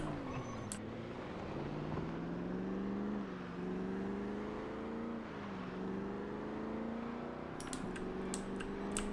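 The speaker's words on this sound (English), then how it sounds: "There's a heavy vehicle." Heavy vehicle drives past, its engine a steady low drone with shifting pitch that swells and eases over several seconds, moderately loud and alone, with a few faint clicks near the end.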